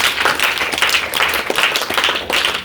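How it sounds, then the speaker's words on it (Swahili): A church congregation claps for Jesus during a sermon, many hands striking in bursts of rhythmic, close, loud clapping that pulses steadily throughout. "Kama unaelewa pigie Yesu makofi."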